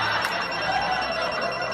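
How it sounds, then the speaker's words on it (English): A steady electronic phone ring sustains throughout, loud and continuous with a faint background murmur. "Is your phone ringing, girl? Is that your phone?"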